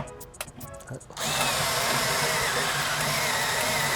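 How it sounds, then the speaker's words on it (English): After a few faint clicks and knocks, a power drill with a step drill bit whines into steady high-pitched cutting through steel, loud and close. "I'm gonna just go ahead and swap this for the step drill."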